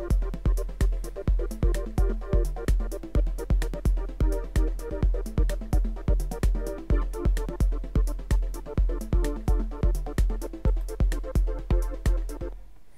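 A repeating electronic music loop with a steady thumping kick drum on every beat and layered synth chords, driving and even in tempo, with no voices.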